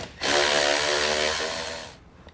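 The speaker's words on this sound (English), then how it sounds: "So now we're just gonna remove this with a 13mm socket." An air or power tool with a 13mm socket spins a nut off a battery post while fitting a brake system on an RV, giving one steady, loud, close whir of about two seconds that stops abruptly, with no talk.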